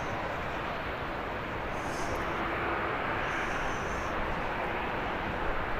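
An aircraft rumbles overhead at Birmingham airport as a broad, steady roar holding loud throughout, with a faint high whine drifting in partway through.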